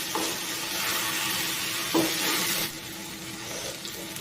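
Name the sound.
fried okra being stirred into masala with onions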